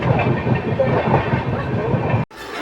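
A train to Dwarka rumbles steadily along the rails with a regular clickety-clack rhythm, heard from onboard, then cuts off abruptly near the end.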